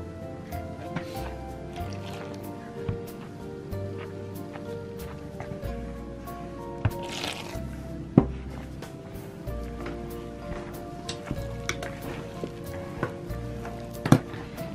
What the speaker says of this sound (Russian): Замешиваем тесто,